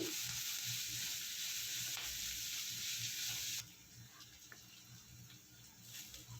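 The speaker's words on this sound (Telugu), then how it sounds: "ఆనియన్, వెల్లుల్లి పేస్ట్ కూడా ఇందులోకి యాడ్ చేసుకొని పచ్చి స్మెల్ పోయేలాగా బాగా కలుపుకోవాలి" Onion and garlic paste fries in a pan with a soft, steady sizzle while being stirred, fairly quiet, the frying noise dropping lower partway through.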